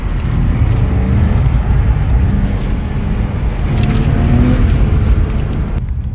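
A BMW E36 drifts on a wet track, its engine roar and tyre rumble filling the clip loudly and steadily from start to finish before cutting off sharply near the end.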